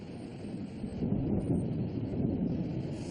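A low, continuous rumble rolls steadily under a wash of broadband noise, swelling slightly after the first second, like thunder far off with rain or wind.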